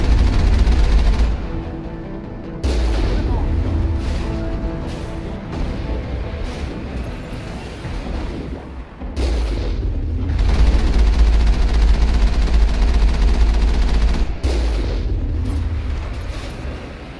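Turrets firing in the Mass Effect video game, a dense, loud run of booming blasts and rumbling explosions that swells and breaks off several times, with no talking over it.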